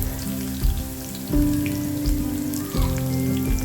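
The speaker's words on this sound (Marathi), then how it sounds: "जिरे छान फुलल्यानंतर यामध्ये मी लसूण टाकून घेणार आहे लसूण छान आपल्याला परतून घ्यायचं आहे" Garlic sautéing with cumin seeds in a pan, a steady crackling sizzle with rain-like spatter and a few louder bursts as pieces are stirred; no talking.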